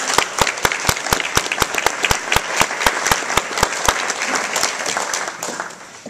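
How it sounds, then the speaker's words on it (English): Audience at a recognition night applauds, a crisp run of close individual claps in steady rapid succession that tapers off near the end. "let's give them a round of applause in their absence"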